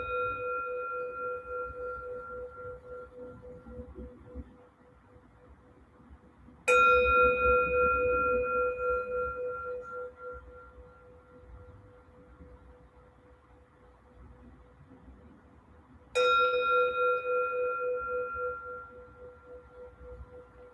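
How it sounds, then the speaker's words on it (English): Meditation bell rings out, struck twice at roughly ten-second intervals, each clear metallic tone swelling loudly and then fading in a long, sustained shimmer, heard alone in a quiet room. "You might follow how the bell brings you right into yourself"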